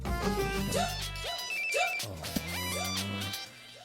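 A phone ringing in a dubbed Hindi movie, a repeating electronic ringtone pattern playing over background film music, with no voices.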